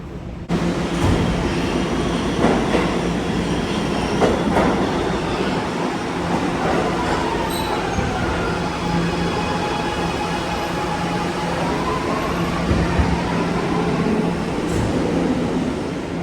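A New York City subway train on the A or C line, bound for the World Trade Center: a loud, sustained rumble of cars on the rails with clattering wheels and thin metallic squeals, heard up close for about sixteen seconds.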